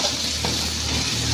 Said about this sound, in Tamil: இப்போ வெட்டி வச்சுருக்க பச்சை மிளகாயை போட்டுப்போம்